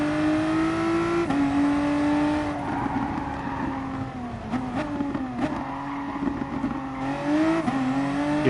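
Tyres of a race car in GT Sport at Bathurst, pushed hard under braking, with a sustained whining screech riding over the revving engine, pitch bending up and down through several corners, loud and close.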